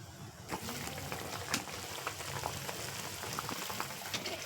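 Fish curry bubbles in a pot on a home stove, a soft, steady crackle of popping bubbles with occasional sharper sizzles, close and fairly quiet with no talk.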